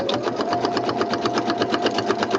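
A sewing machine runs steadily at speed, stitching a straight seam on journal ephemera pieces, its needle giving a fast, even rhythmic chatter over a continuous motor hum, close and unbroken throughout.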